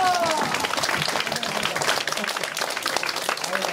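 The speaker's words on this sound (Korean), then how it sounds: "자, 하나 둘 셋 하면 화이팅하고 박수 치겠습니다." An audience at a graduation ceremony claps and cheers together in a dense burst, with a few voices calling out under the applause.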